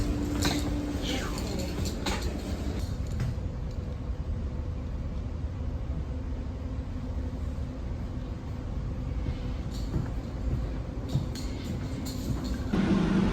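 A steady low rumble and rattle of a moving passenger train carriage in California, with occasional creaks and clunks, while a person talks over it.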